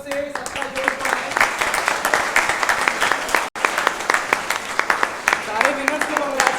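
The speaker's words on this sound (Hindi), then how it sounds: "जोरदार तालियों से सबका जोश बढ़ाएं" Loud, sustained applause from a crowd at a birthday celebration event, dense clapping filling the space with a few faint voices and tones mixed in, interrupted by a split-second dropout midway.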